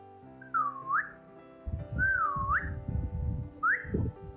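A woman's whistling during a casual mic check on a livestream, heard as three separate rising and falling tonal phrases that stand out clearly over a background of low voices.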